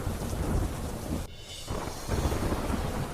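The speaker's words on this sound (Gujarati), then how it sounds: "વહેલી સવારથી જ વરસી રહ્યો છે ગાજવીજ સાથે ધોધમાર વરસાદ" Thunder rumbles with a steady wash of heavy rain at Pavagadh hill temple in the early morning, the downpour loud and continuous with a brief softer dip midway.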